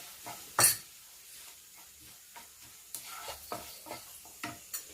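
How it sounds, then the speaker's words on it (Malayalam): Turmeric, hot chili powder and Kashmiri chili powder being stirred in a pan: a loud scrape near the start, then a series of light, regular spoon scrapes and taps against the metal. No voices. "മഞ്ഞൾപ്പൊടി, എരിവുള്ള മുളക് പൊടി, കാശ്മീരി മുളക് പൊടി നന്നായിട്ട് മിക്സ് ചെയ്യാം."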